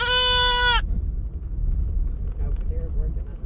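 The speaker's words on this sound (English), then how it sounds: "you holding that goat" A goat bleats loudly and close up for under a second, a tremulous, strongly pitched cry, then gives way to low background rumble and quiet voices.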